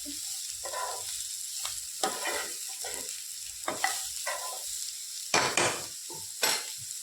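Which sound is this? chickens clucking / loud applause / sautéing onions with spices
sautéing onions with spices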